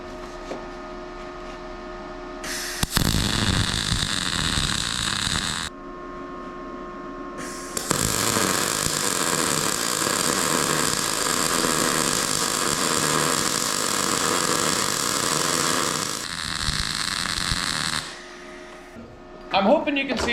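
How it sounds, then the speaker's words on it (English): MIG welder laying a bead in several long bursts of steady crackling hiss, with brief pauses between passes; the welding sound is close and loud. "Let's get to welding."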